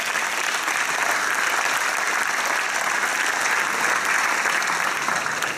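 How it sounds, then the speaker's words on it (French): Steady, dense applause from a large crowd at a Socialist Party rally, the Fête de la Rose at Soustons, filling the whole stretch at constant loudness without letting up. "En tout cas, vu les applaudissements"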